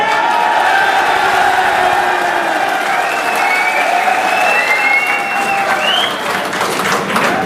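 A crowd at a rally for electricity workers breaks into loud, sustained applause, clapping filling the air steadily for several seconds with a few scattered shouts mixed in.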